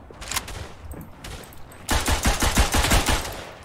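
Gunfire in the World War I shooter Verdun, in the trenches: scattered shots first, then a dense rapid burst of automatic fire, close and loud.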